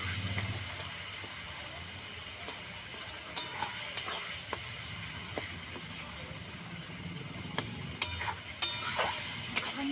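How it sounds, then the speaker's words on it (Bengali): Masala is stir-fried in a pan, with a soft steady sizzle and occasional sharp clicks and scrapes of a spoon on metal, a few of them louder near the end. "একটু জল দেব আর একটুখানি কষিয়ে নেব"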